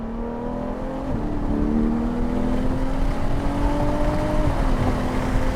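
Ferrari 812 GTS with its V12 engine accelerating, a loud continuous engine roar with rising tonal pitch lines heard from inside the cabin, steady and close with no talk over it.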